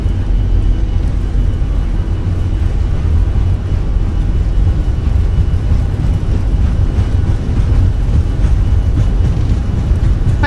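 Airliner engines spooling at takeoff power on the runway at Paro, Bhutan, in Microsoft Flight Simulator, a loud steady deep roar running unbroken throughout.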